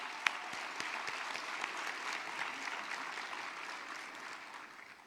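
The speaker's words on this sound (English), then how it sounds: "Let's give a round of applause for Sandra Cunningham." Audience applause at a business awards luncheon, sustained clapping from a roomful of people, even and moderately distant, fading slightly toward the end.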